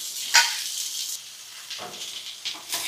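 Tomato, mint and tamarind fry in a pan with a soft, steady sizzle. A few sharper clinks and scrapes of the utensil against the pan break through now and then.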